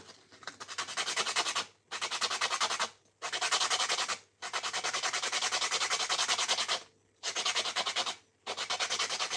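Continuous sanding of a small, delicate skateboard part at a workshop, a loud close rasping rub that runs in long strokes broken by several brief pauses.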